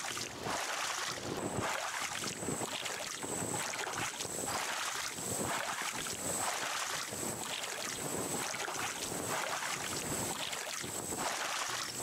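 Raft in the video game Raft being rowed by hand across open sea, with rhythmic swooshing paddle strokes repeating roughly every second over steady wind and water noise.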